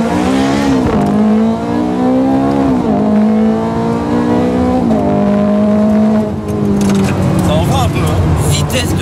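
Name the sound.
Ferrari F430 Scuderia accelerating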